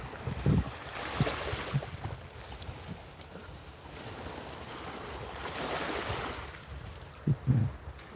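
Sea waves wash in from the shore beside salt flats, a steady surf roar mixed with wind buffeting the microphone, with a couple of brief louder thumps near the start and end and no talking.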